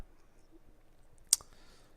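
A single sharp computer mouse click sounds alone during a website tutorial, brief and close against a quiet background.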